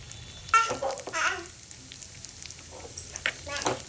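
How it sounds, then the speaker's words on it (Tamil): Lentils and spices dry-roasting in hot oil in a small pan for Tamil paruppu thuvaiyal give a soft, intermittent sizzle with a few brief scraping stirs, fairly close and modest in level, with no talk. "இதெல்லாம் வறுத்து விடுங்க."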